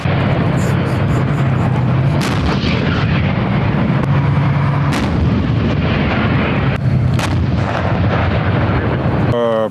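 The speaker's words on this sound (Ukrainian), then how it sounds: "колишні російські, а тепер уже українські танки роблять це залюбки, хоча й стріляють зараз по умовних цілях" Loud, repeated deep booms of tank cannon fire at targets during mountain training over a constant roaring engine rumble, several sharp blasts spaced across the recording.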